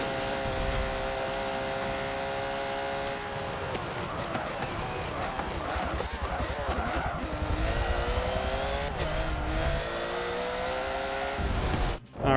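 A race car in Forza Motorsport 7 drives at speed, its engine droning and shifting pitch through gear changes and turns, with tire noise and a sudden cut near the end.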